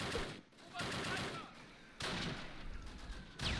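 Gunfire in the WWII strategy game Close Combat Last Stand Arnhem, set at Oss in 1944: dense, sustained bursts of shooting and rattling fire that stay loud throughout, with brief dips between volleys.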